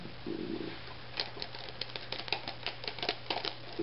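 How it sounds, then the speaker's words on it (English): A Bicycle Shadow Masters deck of playing cards is dribbled from hand to hand, producing a quick, close patter of light card flicks spread across the clip over a steady low hum. "You see that when you dribble them,"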